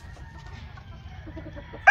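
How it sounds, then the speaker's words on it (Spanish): Chickens and young roosters at a game farm in Oklahoma, clucking in short soft bursts over a low steady background, with a louder close call right at the end. "Tengo algunos pollos."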